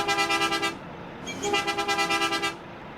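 A Volvo Comil DD double-decker bus horn in American Truck Simulator blares twice, each a buzzing musical blast with a pulsing rhythm, the second longer, close and loud.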